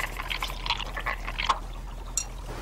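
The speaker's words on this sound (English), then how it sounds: "Squeeze the lemon and dip a swab in some of the juice." Lemon juice squeezed out in a quick trickling, liquid patter of small drips and squirts, close and faint, with no voices.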